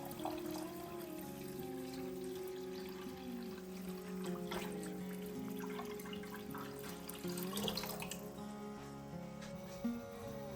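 A litre of water pours into a pot to make baklava syrup, a steady close trickle and splash lasting several seconds, with faint clinks of kitchen handling and no talking.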